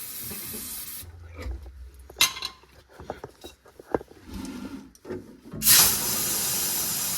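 Brake cleaner sprays from an aerosol can in two short, loud, close hissing bursts, one at the start and one near the end. Scattered metallic clicks and clinks from working on a vehicle fall between them.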